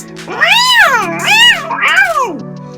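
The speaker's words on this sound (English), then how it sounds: "With a pained meow, the cat released the thief" A cat lets out three loud, drawn-out meows in quick succession, strained and wailing, close by with no other sound.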